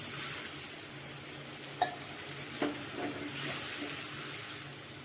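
Water poured into a pan of frying spices and small potatoes sets off a steady broad sizzle, with a couple of brief clinks and splashes, nearby and moderately loud.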